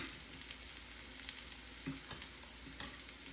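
Pork steak and sweet potato tot mixture being stirred in a pan for low-carb cheesesteaks, with a steady soft sizzle and a few scraping clicks of the utensil, fairly faint and with no talking.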